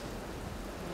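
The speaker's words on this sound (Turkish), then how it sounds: "Evimize yağmur yağıyor anne tavandan." Rain leaks through a house ceiling with a soft, dense pattering of drops, faint and continuous over a very short moment with no voices.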